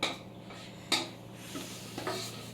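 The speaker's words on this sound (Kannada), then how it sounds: "ಸೊ ಎಲ್ಲ ಬಾಣಲಿಗೆ ಹಾಕಿ ಮಿಕ್ಸ್ ಮಾಡ್ತಾ ಇದ್ದಾರೆ." A metal spoon scrapes and clinks against a pan as ground masala for a Kundapur-style bangude (mackerel) fish curry is stirred, with a few sharp taps and a soft sizzle in a quiet kitchen.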